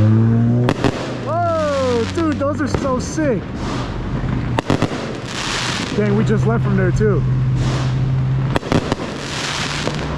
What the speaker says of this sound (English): Bro, they got the fireworks show.